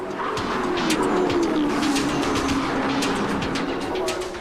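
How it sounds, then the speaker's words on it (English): Stock cars race through the final laps of an international event in Melbourne, Australia, at speeds near 140 mph, their engines forming a continuous, loud roaring drone with no break. "An international stock car race enters its final laps."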